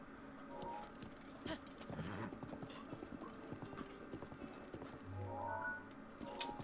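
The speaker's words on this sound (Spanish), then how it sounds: "Ok, cogemos el caballo y nos vamos al bosque." A horse gallops in The Legend of Zelda: Breath of the Wild, rapid rhythmic clip-clop hoofbeats running continuously at moderate volume, with faint gear-like clatter and a brief whinny-like tone near the end.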